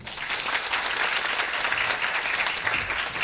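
Audience applause after a presenter's talk at a Korean tech forum, a steady wash of many hands clapping at moderate level for the whole stretch, with no voices over it.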